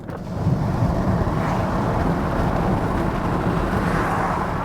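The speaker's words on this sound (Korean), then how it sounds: "지금 제 밖에 있는 도로 소리인데, 지나가는 차 소리, 뭐 옆 차 소리" Steady broadband road roar and wind rush from passing traffic pour in through an open window of a moving Genesis GV80, a dense continuous wash with no talk.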